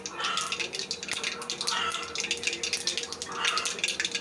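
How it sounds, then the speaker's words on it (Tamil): Mustard seeds spluttering in hot oil in a home kitchen, a dense crackle of sharp pops swelling in bursts, close and fairly soft. "கடுகு பொரிஞ்சாச்சு"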